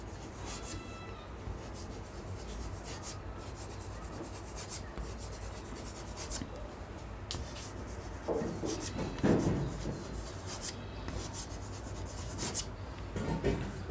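Chalk or marker writing on a classroom board during a spoken English lesson, a steady faint scratching and rubbing throughout with short stroke bursts, a teacher's voice present at a low level.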